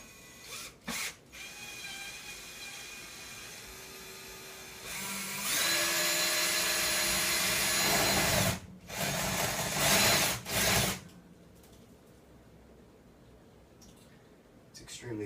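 A power drill bores a hole into drywall while something is being mounted, heard as loud, grinding bursts of a few seconds each, split by short pauses, with a voice nearby.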